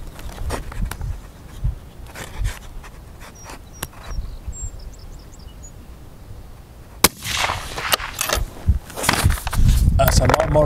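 A single sharp fullbore rifle shot firing a Berger 155.5 bullet cracks loudly partway through, set among outdoor range noise, shuffling and a voice speaking nearby before and after, with rustling growing louder toward the end.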